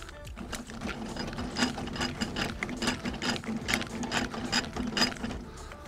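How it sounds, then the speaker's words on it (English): A camper trailer's stabilizer leg being wound up by hand with a brace, giving a steady ratcheting, gear-like clicking that repeats rhythmically and close by for several seconds, with no talking. "Wind the leg up, then lock it up out of the way."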